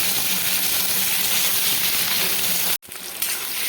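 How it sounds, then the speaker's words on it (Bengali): Okra sizzles steadily in hot mustard oil over low to medium heat, a loud, dense frying hiss that briefly cuts out near the end, then resumes. "আর সর্ষের তেলের উপরে দিয়ে দিচ্ছি ভেন্ডিগুলোকে প্রথমে আমি ভেন্ডিগুলোকে ভেজে নেব"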